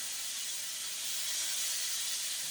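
Shrimp cooking in a pan for rasta pasta, giving a steady, bright hiss of sizzling that holds evenly throughout, with no voices over it.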